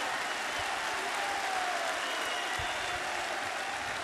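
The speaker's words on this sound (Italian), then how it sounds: "un grande applauso a Paolo Dybala" Roma fans applaud Paolo Dybala at a club event: dense, continuous clapping from a large crowd, steady and fairly loud throughout with no break.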